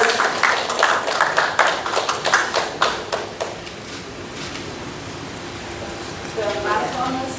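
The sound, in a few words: audience applause at press meet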